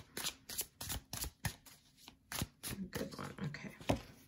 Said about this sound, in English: I'm gonna give that another shuffle